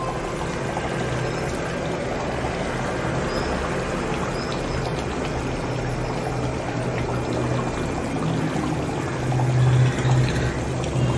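Chettinad chicken kulambu bubbling in an iron or clay pot just off the stove, a steady, close, dense simmering burble that swells slightly toward the end.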